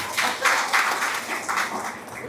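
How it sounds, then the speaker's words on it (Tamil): A crowd at a 12th anniversary celebration gives a round of applause, a steady, moderately loud wash of clapping that swells and eases in waves. "அவருக்கு ஒரு பெரிய கைத்தட்டல் கொடுங்க."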